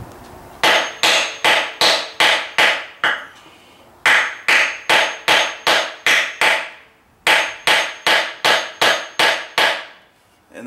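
Steady hammer blows striking scrap wood, landing in three quick bursts of about six to eight hits each, with short pauses between the runs.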